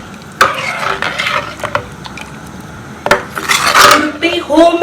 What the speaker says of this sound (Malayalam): നന്നായിട്ടൊന്ന് മിക്സ് ചെയ്ത് കൊടുക്കാം.